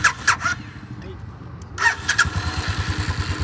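A GT650 motorcycle engine cranks briefly, then catches and settles into a close, steady, pulsing idle. Brief voices are heard near the start.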